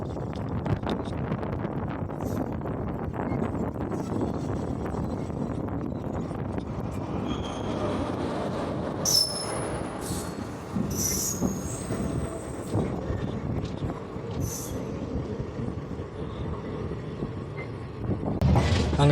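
A local passenger train runs on rails in Tamil Nadu, with a steady loud rumble of wheels, occasional high squeals and wind buffeting the microphone throughout.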